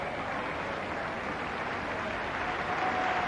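Football crowd at Tynecastle applauding as Hearts substitute Brian McNaughton leaves the pitch during a Scottish Premier Division match against Dundee United, a steady distant wash of clapping with no individual claps standing out.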